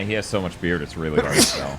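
A sudden, sharp sneeze breaks out near the end of a burst of casual conversation, loud and close, with voices talking just before it.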